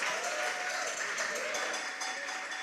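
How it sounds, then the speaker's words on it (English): An audience at a junior high school quiz competition quarterfinal claps for the competing teams, a dense, steady round of applause that fills the short moment without fading. "Please give them a round of applause."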